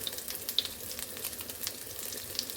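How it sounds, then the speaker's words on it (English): Spoonfuls of corned beef fritter batter fry gently in a pan, a soft continuous sizzle with scattered small pops and crackles, close and moderate in level, with no talking. "I've put spoons of the fritter mixture in the pan and they're cooking gently."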